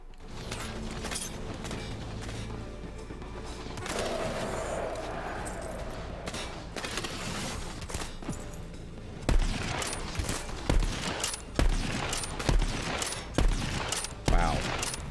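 Sniper rifle fire in the video game Borderlands starts under a busy, noisy battle din, then turns into a steady run of punchy shots spaced under a second apart.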